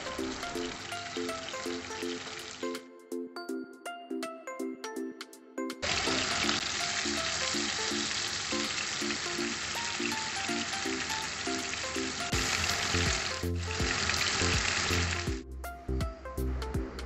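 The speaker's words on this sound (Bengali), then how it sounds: "শুধু টুকরোগুলোকে আমি এপিট ওপিট করে ভালো করে ফ্রাই করে নেব" Marinated chicken pieces for chicken chap sizzle and crackle steadily in hot oil, a loud continuous fry with stirring clinks. The sizzle briefly drops out early on, then resumes.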